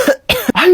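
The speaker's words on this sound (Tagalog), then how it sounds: "Hala, inuubo ka ba, nak?" A child coughs twice in quick, harsh bursts with a short gap between them, close and loud, and no talking.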